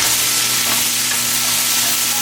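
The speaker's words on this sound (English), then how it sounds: "So right now I'm just pan frying" Loud, steady sizzling of sausage and bell peppers frying in a pan, close and continuous with a constant low hum underneath.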